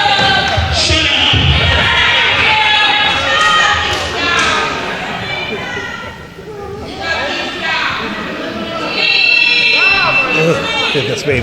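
Hostile wrestling crowd booing and jeering throughout at a Missile Dropkick Wrestling Association show, loud and sustained with overlapping voices and a brief dip midway.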